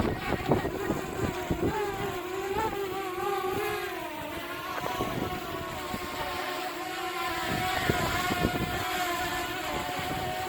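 A DJI Mavic Air drone struggles to hold position in high winds, giving off a steady whining rotor buzz that wavers in pitch under heavy, continuous wind rumble on the microphone.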